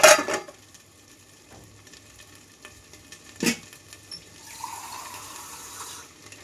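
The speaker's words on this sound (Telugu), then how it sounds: "ఈ మూత మీద అయితే వాటర్ వేసేస్తున్నాను" Water poured onto a pan lid while ivy gourd fry cooks on low flame: a sharp splash at the start, a brief second splash midway, then a soft hiss and trickle toward the end, fairly faint overall.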